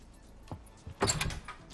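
A locked door rattled in the video game Life Is Strange, two quick clunks followed by a louder metallic jangle and shake, brief and close.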